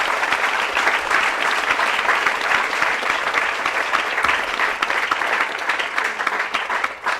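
Audience applause at a high school fundraising kick-off event, a steady, dense wash of many hands clapping that holds evenly for the whole stretch.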